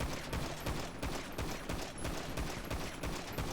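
Rapid gunfire in a video game rattles continuously as a fast, steady fusillade of shots, dense and fairly even throughout, with no talking.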